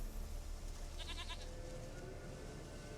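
A goat bleats once in a short wavering call from a fantasy video game, mid-distance and heard over a steady low ambient rumble.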